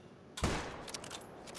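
Gunshot fired at a bear in theHunter: Call of the Wild video game, one sudden loud blast after near silence that decays into a rumbling tail with scattered echoes.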